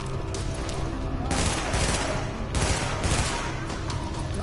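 Gunfire in the video game The Division rattles in a dense, continuous barrage of rapid shots, loud and steady with slight swells throughout.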